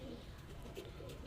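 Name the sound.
pigeons cooing, high flyer pigeons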